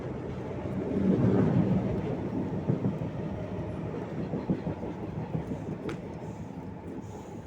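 An MRT train rumbles along an overhead track as heard from beneath it, a loud low roar swelling early then continuing as a rolling, rattling drone through the whole stretch.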